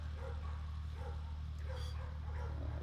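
Zena the dog barks in a few faint, distant yips after spotting another dog, heard over a loud, steady low hum.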